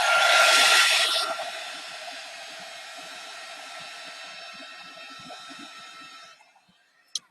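A handheld heat drying tool blows a steady whooshing hiss over molding paste on an art journal page, strongest at the start, then running evenly at moderate loudness before cutting off, followed by a single small click.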